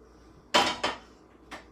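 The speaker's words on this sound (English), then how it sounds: "You're gonna need 2 pans." Pans handled while cooking: three sharp metallic clanks, two close together then one more after a pause, close up in a quiet kitchen.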